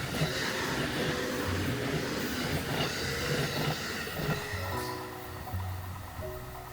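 A long passenger train, about 15 cars, rumbles steadily past at close range near a level crossing in Kamakura, Japan, wheels clattering on the rails with a faint metallic squeal near the end.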